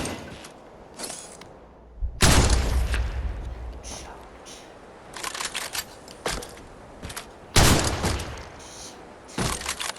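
Sharp gunshots from a sniper rifle and other weapons in the VR shooter Crossfire: Sierra Squad, loud bursts in clusters separated by quieter stretches.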